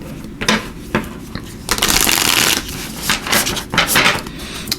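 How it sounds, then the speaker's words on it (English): Tarot cards shuffled by hand in quick bursts: soft riffling and sliding flutters with short gaps between them, close up. "So let me shuffle real quick here."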